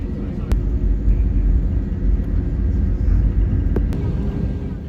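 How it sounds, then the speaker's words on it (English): Jetstar airliner engines rumbling on the runway before takeoff, a steady low drone heard from inside the cabin, with a few faint clicks. "It's now time for takeoff on runway 19 left."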